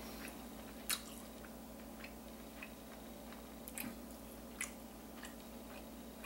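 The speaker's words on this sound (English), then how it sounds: "I love chew and crunch" Someone chews crunchy wild rice up close, soft wet mouth sounds under a low steady background, broken by a few sharp isolated crunches.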